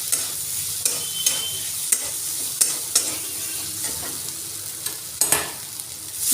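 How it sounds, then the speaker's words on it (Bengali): Taro pieces frying with spices in a pan give a steady close sizzle, broken by sharp, regular scrapes and clacks of a spatula stirring, with no talk. "আমি এরপর মশলাটা দিয়ে কষিয়ে একটু জল দিয়ে"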